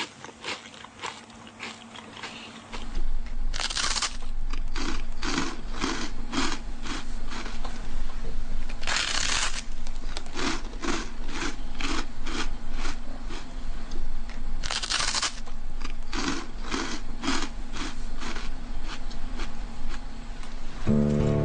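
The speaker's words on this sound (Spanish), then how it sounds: "El sonido que los humanos y animales hacen al masticar proporciona información acerca de si les gusta el sabor de lo que comen" Rhythmic crunchy chewing repeats steadily for about twenty seconds, with sharper louder bites recurring every few seconds amid continuous grinding crunches, close and alone without voices.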